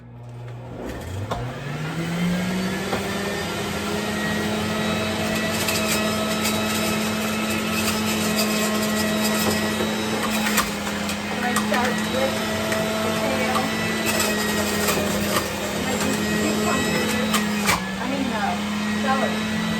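A Breville juicer grinds organic celery for a green juice, a steady loud motor whine that spins up in the first seconds and holds constant with a strained pulpy grinding texture, while a voice speaks now and then over it.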